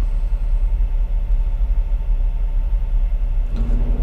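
A Freightliner semi truck's diesel engine rumbles steadily in regeneration mode, heard from inside the insulated cab: a continuous low, loud drone with a brief rise in pitch near the end.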